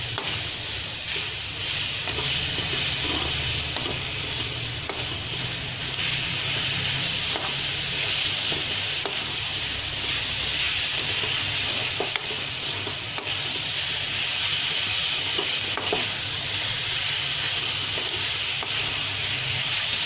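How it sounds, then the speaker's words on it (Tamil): Grated coconut and jaggery stirred together in a pan for a fried kozhukattai filling, a continuous scraping and stirring with a soft sizzle, close and steady throughout with no talking. "கோகோனட்டும் வெல்லமும் நல்லா மிக்ஸ் ஆகுற வரைக்கும் அதை நம்ம நல்லா கிளறி விடணும்"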